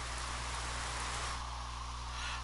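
Steady rain falling in the 428 Shibuya Scramble video game, a constant dense hiss of drops spread evenly with no pauses, alone and without talk.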